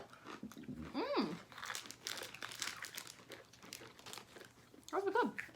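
Crunchy little Japanese ramen-style snacks crinkle and crunch while being eaten up close, with rustling and chewing, short vocal sounds at the start and end.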